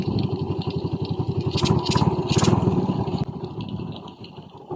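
Yamaha Vega 115 carbureted motorcycle engine running close by, a steady rapid putter with a brief rise in revs midway before settling back to idle.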